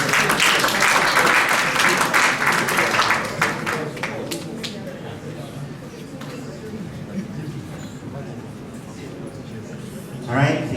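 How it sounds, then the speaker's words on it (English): Live-stream audience applauding a certificate recipient, with loud dense clapping at the start that gradually thins to scattered claps beneath crowd murmur and some talk, then a brief swell near the end. "Let's give her a round of applause."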